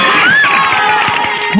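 A stage-show audience claps and cheers together in a dense, steady crowd roar, with a shrill whistle or shout rising above the applause near the start.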